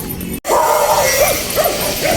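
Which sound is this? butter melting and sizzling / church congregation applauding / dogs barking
dogs barking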